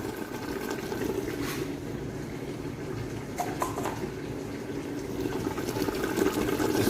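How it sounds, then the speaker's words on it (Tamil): Water being poured into a cooking pot while making chicken mandi, a steady continuous liquid rush with slight splashing that swells a little toward the end, alone without talk. "தண்ணி ஊற்ற போகிறேன் இப்போ"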